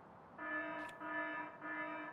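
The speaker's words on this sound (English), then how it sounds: "And the alarm's gone off." An in-game alarm in the Factorio factory-building game, a steady tonal buzzing tone sounding in three sustained pulses with brief gaps, fairly faint and alone.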